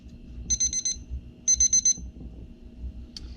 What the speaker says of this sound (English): we're going to set our timer here